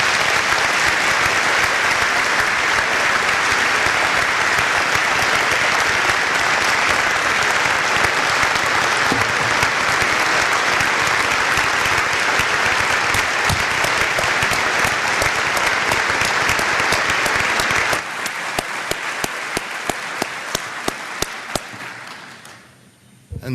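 A room of about 1,000 people standing and clapping, sustained dense applause that fills the space for most of the stretch, then thins to scattered claps and fades out near the end.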